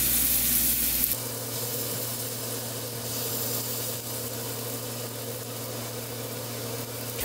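Takoyaki batter sizzles and fries steadily in a hot 16-hole takoyaki pan on a home stove, a constant close crackling hiss that begins with a sharp shift about a second in and carries on unbroken, with no speech.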